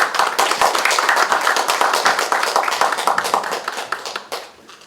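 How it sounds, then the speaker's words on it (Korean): Dense audience applause at a Korean civic anniversary ceremony, steady rapid clapping from many hands that fades out toward the end. "박수 부탁드리겠습니다."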